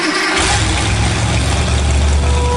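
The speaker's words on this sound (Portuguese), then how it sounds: "Aqui já é uma moto começando a velocidade." A motorcycle engine picks up speed, with a loud, continuous engine roar that surges in after a brief moment and holds steady, close up.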